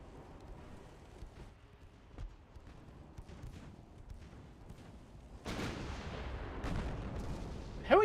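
Naval guns fire in the Ultimate Admiral: Dreadnoughts game, with scattered distant thuds early on and then louder, denser salvos and booms toward the end, alone with no talk over them.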